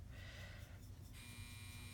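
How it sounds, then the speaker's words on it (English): A household clothes dryer beeps in another room, giving a steady electronic tone that switches to a higher pitch partway through, over a loud constant low hum, with no talking. "If you heard a funny beep, that's my dryer going off."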